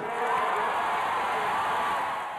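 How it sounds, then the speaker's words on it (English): A huge crowd of many thousands cheers at Catalan independence celebrations, a dense, steady roar of voices heard from a distance with no single voice standing out. "a crowd of many thousands joined in the celebrations"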